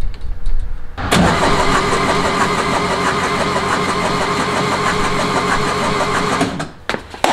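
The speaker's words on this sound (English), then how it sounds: "Roll her over some more." The engine of a 1956 VW Beetle starts up loudly after some brief fumbling noises, then runs at a steady, rough idle for several seconds before it cuts off, and a few clunks follow.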